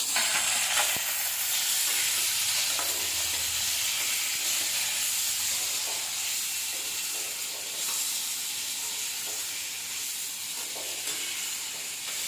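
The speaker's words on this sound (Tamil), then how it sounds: "2 மீடியம் சைஸ் தக்காளி எடுத்து வச்சுருக்கேன், அதையும் இது கூட போட்டு வதக்கிக்குவோம்" Onions and tomatoes sautéing in a pan, a steady close sizzle and hiss with faint stirring scrapes throughout, no talking.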